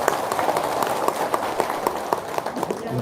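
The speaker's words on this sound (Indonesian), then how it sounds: "Tepuk tangan dong." Scattered audience applause at an indoor gathering: uneven claps ring out steadily for about three seconds over a dense room murmur, fairly close and moderately loud.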